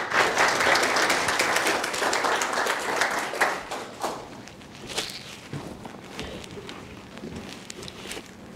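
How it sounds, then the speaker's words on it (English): An audience claps loudly, then the applause thins out and fades into scattered claps over a few seconds. "Give Ellery a round of applause, would you?"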